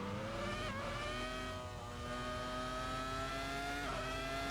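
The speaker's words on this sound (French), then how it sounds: "Dernière ligne droite et victoire de Juan Pablo Montoya sur sa Williams BMW" A Williams BMW Formula 1 car races down the final straight of the 2002 Melbourne Grand Prix, its high-pitched engine wail rising through the gears with brief dips at shifts, heard at a distance under a steady crowd and track ambience.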